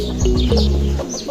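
A bird gives a couple of short chirps nearby over a low, steady background drone.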